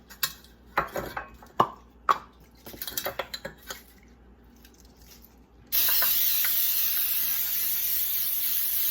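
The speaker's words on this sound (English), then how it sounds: "So now I'm going to spray my pan" A few clinks of a pan being handled, then a steady loud hiss of cooking spray sprayed continuously for several seconds at close range, greasing a pan for cornbread muffins.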